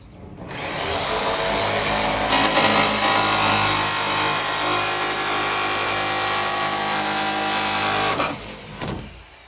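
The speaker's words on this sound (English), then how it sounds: "Here we go, we're using the jigsaw." A jigsaw cuts through wood for a van window opening, a loud, close, continuous buzzing rasp of the reciprocating blade that runs steadily for about eight seconds before cutting off, followed by a brief rattle.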